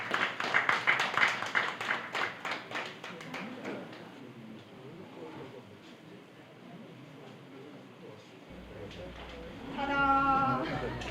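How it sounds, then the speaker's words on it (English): Scattered clapping from a small book-launch audience welcomes a speaker. It is fairly close and fades after a few seconds as a voice begins talking. "Let us hear a lusty round of applause for her."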